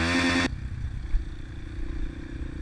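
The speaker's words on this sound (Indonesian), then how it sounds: "Nah, ini motornya kembali menyala ya." A trail motorcycle engine on a forest track on Mount Raung, opening with a brief loud, tonal burst and then settling into a low, steady idling rumble close by.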